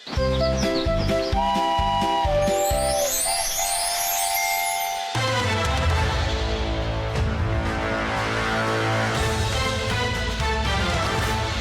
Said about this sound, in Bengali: আর কুঝিকঝিক ট্রেনও চলে এসেছে